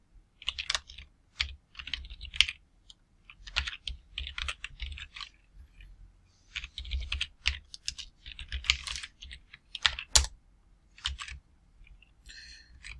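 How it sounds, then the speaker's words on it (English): Fingers type on a computer keyboard in quick, uneven bursts of crisp key clicks separated by brief pauses, close and fairly quiet, with no talking. "Typing."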